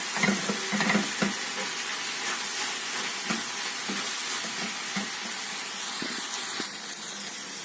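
Meat sauté with chili flakes sizzles in a pan while a utensil stirs it, producing scattered scrapes and knocks over a steady frying hiss, near and alone.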